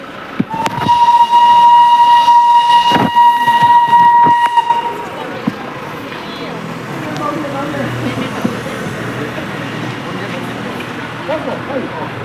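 A train near Darjeeling sounds a loud sustained horn for several seconds, then rumbles on steadily with rolling wheel noise, with people talking over it.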